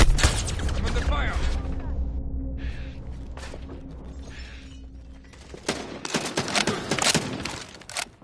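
Bursts of gunfire in Call of Duty: Warzone, sharp loud cracks clustered at the start and again near the end, with quieter gaps between where a voice speaks briefly.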